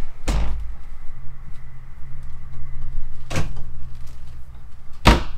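Cabinet door inside a 2021 Keystone Fuzion Impact 367 toy hauler RV: three sharp knocks and clacks, at the start, middle and end, against a steady low hum.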